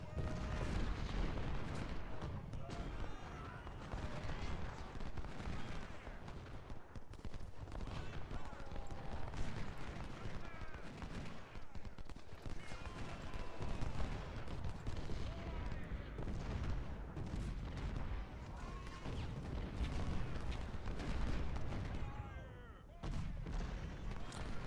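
Cannon and artillery fire in the Ultimate General Civil War video game, repeated booms and crackling volleys over a dense battle din for the whole stretch, with someone talking underneath at times.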